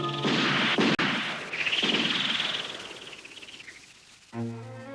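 A sharp gunshot cracks once amid a loud, noisy burst of rumbling and whooshing, followed by a fading roar and a brief tonal sound.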